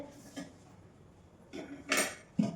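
A pot of rice set down in a home kitchen, a few short clanks and clatters of metal cookware, close and fairly quiet, with no talking.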